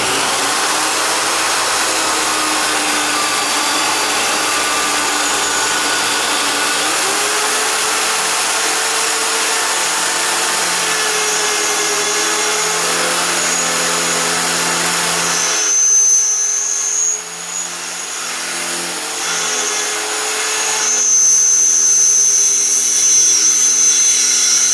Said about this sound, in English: I'll tune back in when I get this all drilled out and show you what I got